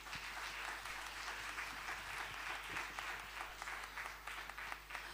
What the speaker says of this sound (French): Je vous demande de les applaudir juste parce qu'ils sont là ce soir.